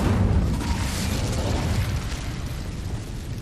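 Incendio fire spell cast in the Hogwarts Legacy video game during a goblin battle, a loud sustained fiery roar and burst that stays dense and rumbling throughout, gradually easing off toward the end.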